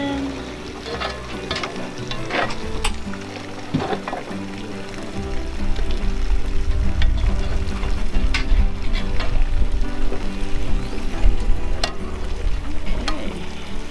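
Eggs frying and being stirred in a camp pan on a Memorial Weekend camping trip, with a steady sizzle under sharp scraping and clanking strokes of a utensil against the metal pan.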